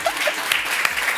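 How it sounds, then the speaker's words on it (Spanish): Brief applause in a casual interview setting: a short burst of scattered hand claps, fairly close, lasting about a second. "Oye, y un aplauso para mí, ¿no?"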